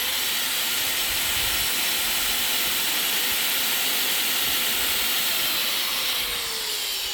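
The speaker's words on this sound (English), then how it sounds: "I also went ahead and grabbed my grinder. Let's go ahead and crank that up and see where we're at." An electric grinder run off a Jackery 3000 Pro power station whines steadily at high pitch under a broad hiss, holding constant throughout.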